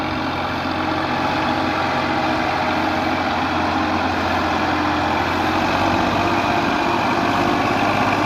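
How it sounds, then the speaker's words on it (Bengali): A power tiller engine drones continuously as it approaches at close range, a low mechanical chug that stays loud and even throughout, with no talking. "এই দেখতেছেন পাওয়ার টিলার আসতেছে এই"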